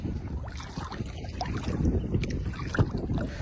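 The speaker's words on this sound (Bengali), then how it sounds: "সোনালী রোদ, তার সাথে বাতাসের শব্দ, পানির কলকল শব্দ, সব মিলিয়ে অদ্ভুত পরিবেশ।" Steady wind and lapping river water near fishing boats where fishermen haul nets before a storm, a continuous close wash of gusting air and gurgling water with no talk.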